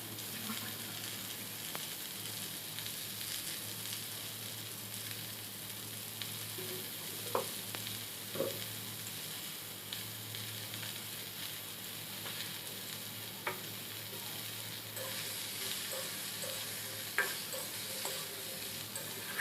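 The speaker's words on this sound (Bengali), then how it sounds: "সামান্য পরিমাণে লবণ হলুদ দিয়ে সবজিটা আমি তিন থেকে চার মিনিট ভেজে নেব" Chopped vegetables seasoned with salt and turmeric fry steadily in a pan for a Bengali rui fish curry, a continuous close sizzle with occasional light clicks and scrapes of stirring.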